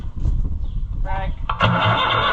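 An Allis Chalmers diesel tractor engine with a fuel leak cranks and catches into a steady running rumble, loud and close, with voices talking over it.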